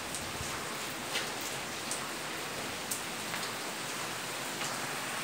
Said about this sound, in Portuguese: Está chovendo fortemente aqui na região do Oeste Baiano